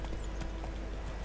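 Rapid, continuous hoofbeats of a galloping horse in the video game The Witcher 3: Wild Hunt, over a dense, noisy background, with no speech.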